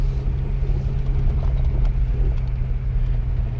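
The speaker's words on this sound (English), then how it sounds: "Off-roading in your diesel Mercedes, there's nothing finer." A diesel Mercedes 300CD rumbling off-road, its low steady engine drone mixed with bumps and rattles from rough ground, close and loud throughout with no voices.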